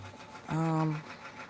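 A sewing machine runs a short zigzag stitch on a kids jacket, tension at 4 and width at 3, one steady motor hum with a fast stitching pulse lasting about half a second before stopping.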